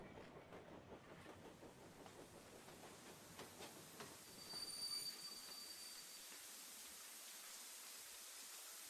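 A train pulls into a station in the video game The 39 Steps, a steady low rumble of wheels on rails with faint squealing, moderately close and continuous, no voices.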